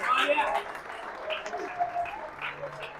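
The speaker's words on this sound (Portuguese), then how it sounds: "E os que acreditam nessa palavra, aplaudam ao Senhor Jesus." A church congregation applauds during a sermon, moderate clapping that swells at first and then thins to scattered claps, with voices calling out over it.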